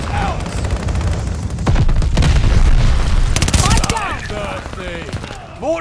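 Heavy booms and rattling gunfire from a video game battle, a dense rumbling stretch of explosions and rapid shots with voices calling out over it and a final thump.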